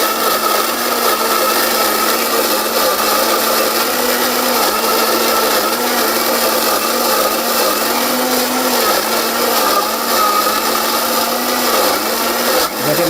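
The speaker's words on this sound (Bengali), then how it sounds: "এই যে ব্লেন্ডার এটা এটা হচ্ছে বাংলাদেশের সব থেকে সেরা" A powerful electric blender grinding ginger roars loudly and continuously at close range, its motor pitch wavering slightly as the chunks churn, with no voices over it.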